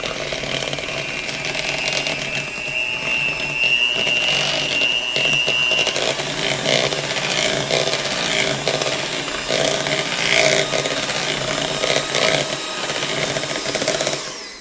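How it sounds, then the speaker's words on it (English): An electric mixer blends softened cream cheese and butter for a coconut flour pound cake, a steady whirring motor hum that runs continuously throughout with slight pitch wobbles as the beaters work the mixture. "we're just going to blend it until it's smooth"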